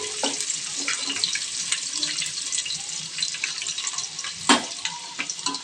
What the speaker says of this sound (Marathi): लसूण चांगलं फ्राय होऊ द्यायचं.